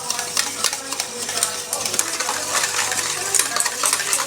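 Sugar being mixed into beaten egg in a bowl, a busy continuous clatter of utensil against the bowl with quick, uneven scraping strokes close by.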